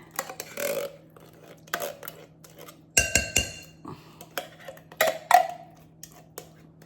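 A spoon stirs pumpkin into pie filling in a bowl, making irregular clinks and knocks against the bowl in short bursts with brief pauses between them.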